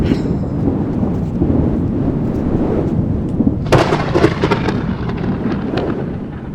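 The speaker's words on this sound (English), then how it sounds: "you got a lightning storm going on in the background" Thunder from a lightning storm at sunset in a state park, a deep rumble rolling on and swelling into a louder crackling peak near the middle before fading back to a distant grumble.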